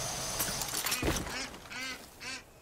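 A duck in the video game Far Cry 5 lets out a few loud, nasal quacks in quick succession, close by, with outdoor game ambience around them.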